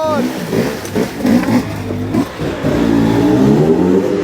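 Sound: enduro motorcycle engine revving

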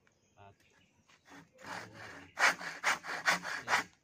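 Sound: hand saw cutting wood

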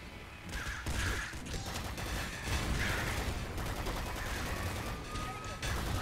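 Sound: maggot launcher firing in the video game Nuclear Throne

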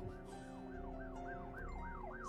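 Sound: emergency vehicle siren outside

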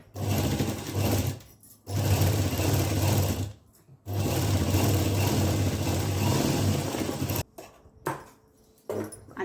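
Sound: sewing machine stitching a skirt

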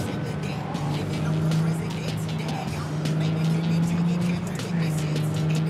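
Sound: car driving in Cyberpunk 2077 video game

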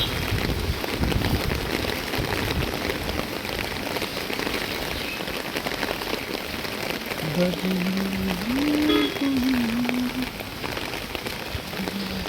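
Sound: heavy rain

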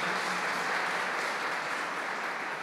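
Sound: church congregation applause

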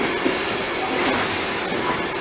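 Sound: modified Southern steam locomotive running

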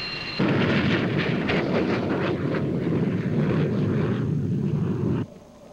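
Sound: F-14 and T-38 jet aircraft in air combat maneuvering

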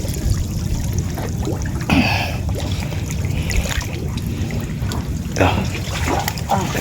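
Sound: water trickling in a muddy spot

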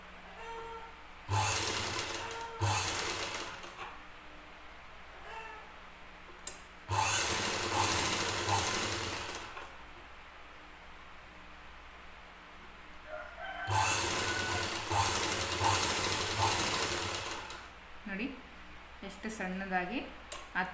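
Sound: sewing machine stitching thread piping on a blouse, double foot

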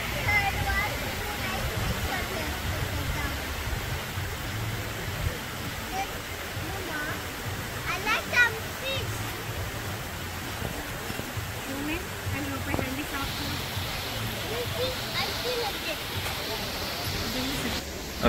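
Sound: river flowing in Alanya, Turkey

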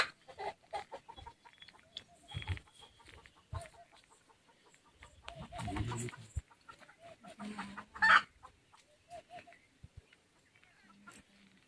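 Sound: chickens clucking

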